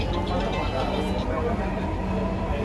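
Metro rail train riding, a steady rumbling cabin drone with rolling wheel noise that holds at an even level throughout, with people talking over it.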